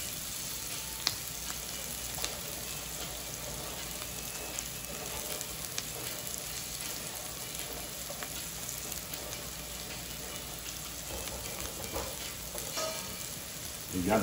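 Fries sizzle steadily in hot oil throughout, a dense continuous crackle with occasional sharper pops and no voices.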